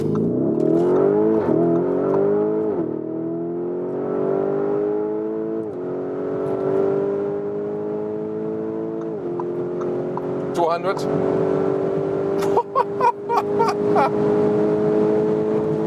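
A Lamborghini Urus pulls hard from 40 km/h on a German Autobahn, its engine note climbing through several gear shifts with a loud, close cabin roar, and a voice briefly exclaims near the end.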